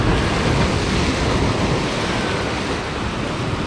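Sea waves wash onto the beach at Lazarevskoye near Sochi in a continuous, loud, broadband rush of surf, with no voices.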